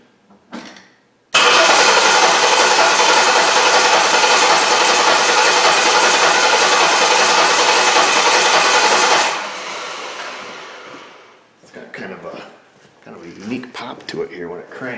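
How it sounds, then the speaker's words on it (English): Jeep Liberty with a rough-running, stalling fault cranks over in one long loud burst of steady starter churning lasting about eight seconds, then stops, followed by someone talking. "So let's go ahead and crank it over here."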